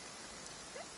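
Brief burst of video-game rainfall, a faint, even hiss lasting about a second with no talking.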